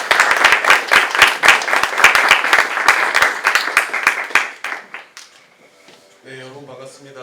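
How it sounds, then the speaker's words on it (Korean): A live audience at a university careers event gives warm applause to welcome a speaker, dense clapping that thins out and fades after about five seconds, followed by a brief quiet musical tone. "따뜻한 박수로 모시겠습니다."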